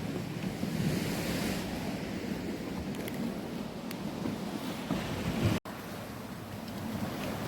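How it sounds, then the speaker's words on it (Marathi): Powerful ocean waves surge and crash inside sea caves on the Tasmanian coast, a continuous loud roar with wind buffeting the microphone and a brief dropout near the end. "इथे किती विलक्षण ताकद आहे पाण्यामध्ये आणि आवाज काय दणदणीचा आवाज आहे हा"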